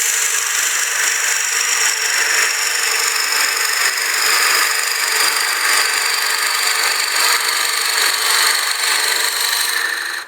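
Forstner bit drilling slowly into a wooden block turning on a lathe, a continuous bright scraping and cutting hiss, loud and close, steady throughout before cutting off sharply at the end.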